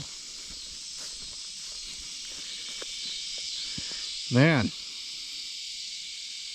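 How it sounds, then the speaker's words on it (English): Cicadas drone loudly at night in a steady, high-pitched hiss that runs unbroken through the whole stretch, with a brief voice and a short louder sound partway through. "cicadas are getting a little bit more quiet, but tonight they're pretty loud"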